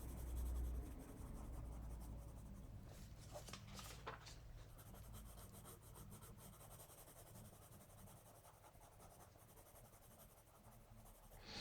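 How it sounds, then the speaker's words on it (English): Black colored pencil shading on paper, a steady close scratchy rubbing that runs continuously and fairly quietly, with a soft low hum underneath. "and shading with a black colored pencil."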